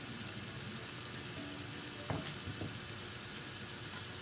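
Potatoes going into a pan of chicken curry, with a steady low sizzle and bubbling throughout and a brief clatter of pieces dropping in near the middle.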